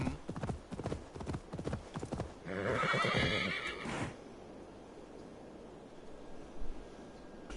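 A horse in Assassin's Creed Valhalla clip-clops with quick rhythmic hooves, then lets out a long, loud whinny before the hoofbeats fade into quieter ambience.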